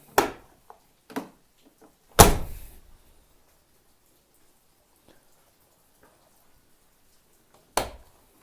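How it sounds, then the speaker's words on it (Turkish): The rear door of a Tofaş car gives a few latch clicks followed by a loud, close thunk, then a quiet pause and one more click near the end. "Arka kapıyı da açmak istiyorum."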